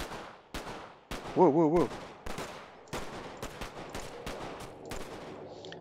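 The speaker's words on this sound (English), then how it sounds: "I didn't do anything to you. Why are you shooting at me?" Enemies fire on the player in the survival game DetoNation: sharp, close gunshots crack out in irregular bursts, about a dozen loud reports, while a man briefly exclaims partway through.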